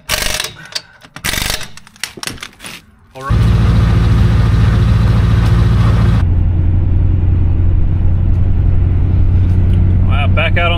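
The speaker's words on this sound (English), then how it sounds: "back out on the road, getting the brakes bedded in" A Duramax dually pickup truck cruises on the road, its diesel engine and road rumble droning loud and steady for most of the stretch, after some brief clunks and handling noises at the start.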